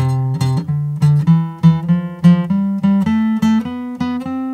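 An electric guitar plays a stepwise run of single notes in a lilting long-short swing rhythm, clean and close, climbing gradually in pitch.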